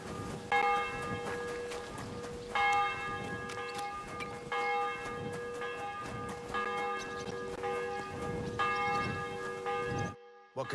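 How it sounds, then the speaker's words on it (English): A church bell tolls in slow, steady strokes, about one every two seconds, each ring hanging in a long humming decay that overlaps the next, loud and close throughout before cutting off abruptly near the end. "The bell's ringing for Hans the 5th time."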